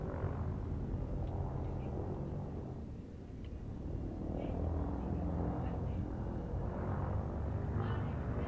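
Spaceship thrusters in the game Elite Dangerous, a low, continuous rumbling roar that swells and dips slightly and holds at a fairly steady, moderate level throughout.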